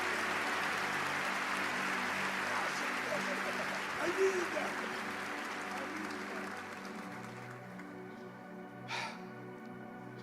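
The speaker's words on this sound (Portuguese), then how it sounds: "Você pode aplaudir o mais forte que você puder." An audience at a Christian talk applauds strongly, a broad wash of clapping mixed with crowd voices that gradually thins and quiets toward the end.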